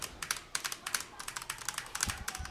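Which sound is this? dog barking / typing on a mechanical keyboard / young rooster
typing on a mechanical keyboard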